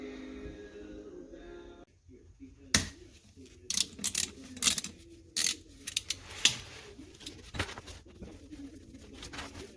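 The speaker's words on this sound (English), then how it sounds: "T30 Torx to pull the pan bolts out." A ratchet fitted with a T30 Torx bit works pan bolts out of a 2008 Jeep Grand Cherokee CRD (OM642) transmission, giving irregular clicking and clunking strokes over a low background hum.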